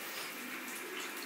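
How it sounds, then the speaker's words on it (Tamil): Water poured from a cup into dough or flour for chapati, a steady continuous splashing pour lasting about a second, close and fairly quiet with no talk over it. "ஊத்துமா தண்ணிய, உன் கையால பொன் கையால."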